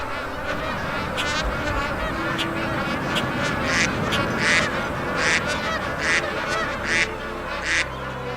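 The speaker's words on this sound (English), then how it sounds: "It's teeming with bird life here." A dense chorus of waterbirds honking and calling at a lagoon on Cape York, many voices overlapping continuously at mid distance, loud and without speech.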